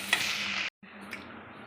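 Onion and tomato fry in a pan for a Karnataka-style donne biryani masala, a bright, close sizzle with a stirring scrape. The sizzle drops out for a moment, then resumes more quietly.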